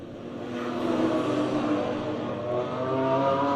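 BMW race cars lap Red Star Raceway during a race-series event, a sustained engine roar with rising revs as the pack drives past, steady and fairly loud with no voices.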